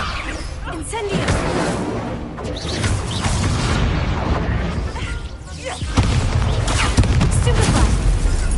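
A duel in Hogwarts Legacy with the Incendio fire spell cast among others: repeated whooshing blasts, booms and crashing impacts in quick succession, loud and busy, with voices shouting over the fight.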